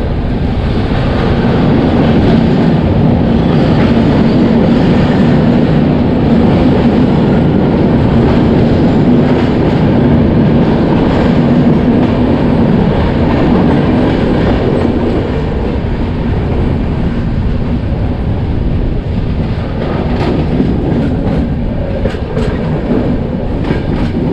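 Delhi to Howrah Purba Express 12304 running through a series of short tunnels: a loud continuous rumble and rail roar with faint clickety-clack, steady from start to end, no voices.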